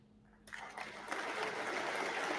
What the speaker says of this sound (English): More applause, and he is removing those regulations.